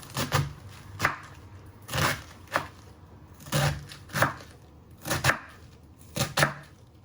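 A knife finely slices half a cabbage on a cutting board, making crisp, regular chopping strokes about once a second, close and clear with no talking.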